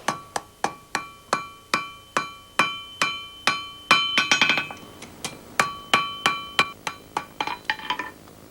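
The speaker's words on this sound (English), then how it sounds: "One of the ways they used to do it was with a song at the tip of their hammer, an art Bell admires." A blacksmith's hammer strikes metal in a steady, ringing series of sharp clanks, about two blows a second. The strikes are close and loud, with brief pauses and a few bursts of quicker, busier blows.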